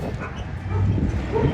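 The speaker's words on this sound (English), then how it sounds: "They have dogs inside the building" Dogs inside a building bark and yip, muffled and somewhat distant, with a few short barks and whimpers over a low rumbling background.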